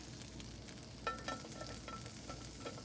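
Butter sizzles quietly in a pan, a soft, steady crackle with a few brief sharper pops and faint stirring scrapes, heard alone and not very loud.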